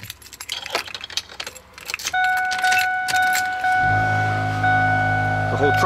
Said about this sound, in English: The whole truck comes to life.